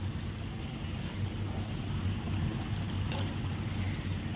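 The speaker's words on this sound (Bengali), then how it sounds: "ব্রিজটার নিচ থেকে জলও বইছে" A stream flows under a bridge in a valley near Pahalgam, Kashmir, making a steady broadband rush that holds at a constant level with gusty, wind-like noise mixed in.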